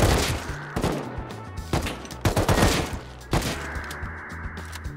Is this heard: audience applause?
no